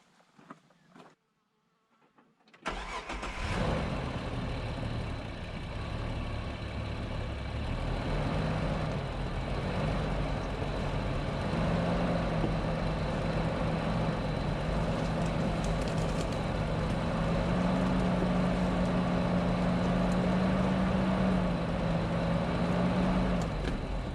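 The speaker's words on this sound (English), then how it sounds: "Now I'm just going to drive in a little bit" A vehicle creeps slowly along a rough, newly cut trail, its engine a close, steady droning hum with a wavering low tone that rises slightly later, continuous for the whole stretch without talk.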